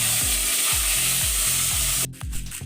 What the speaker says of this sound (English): We're going to give it a nice stir. We want it to be crispy.